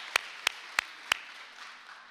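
A ceremony audience cheers the 2017 rabbinic ordination class with four sharp, close claps at a steady beat over a diffuse crowd clapping that trails off afterward.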